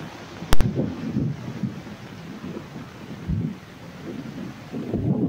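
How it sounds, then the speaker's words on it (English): Rain and gusting wind buffet a Beneteau 361 sailboat at sea, a continuous rushing and pattering wash with wind rumble on the microphone and a sharp knock early on. "It's just rain."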